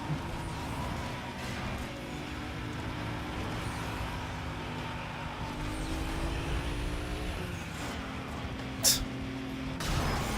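Dodge Viper and Porsche race cars roar by in Need for Speed Most Wanted, a steady droning engine hum with shifting pitch and a couple of sharp spikes near the end, with no talk over it.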